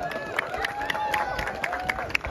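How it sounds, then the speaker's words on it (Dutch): Crowd at a Sinterklaas arrival event at a Dutch shopping centre claps and cheers in a busy, continuous wash, with scattered sharp claps and chatter running through it. "Applaus!"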